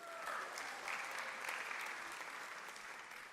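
An audience applauds at a short film awards ceremony honoring films about ability. The clapping is steady, dense and even from start to finish, at a moderate distance.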